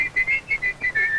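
A person whistling a short tune in a song, clear bright notes in a quick rhythmic phrase of about six tones, up close with no talk.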